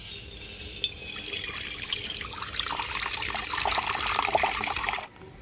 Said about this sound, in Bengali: কড়ার মধ্যে বেশ কিছুটা জল দিয়ে দেব।